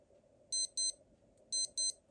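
A 1985 Casio GH-16 game watch sounds its alarm in two paired bursts of rapid, bright electronic beeps, close and clear over a quiet background.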